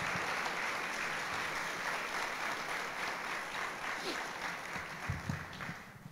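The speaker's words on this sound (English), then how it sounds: "How about a big round of applause for Judith?" An audience at a guide dog graduation ceremony gives a round of applause, a continuous, fairly faint wash of clapping from a crowded room that slowly thins out, with a few scattered sounds near the end.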